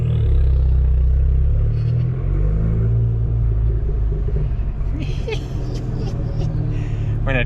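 An Abarth 595 turbo hatchback rumbles and gargles as it drives, a loud, low engine growl up close from inside the car, with road noise and a brief rattling burst later on.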